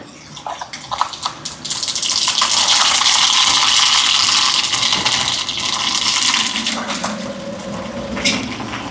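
Mustard seeds crackle and spit as they are tempered in hot sesame oil, a loud, dense sizzle that swells after a quiet start and continues steadily, easing slightly toward the end, with no talk over it.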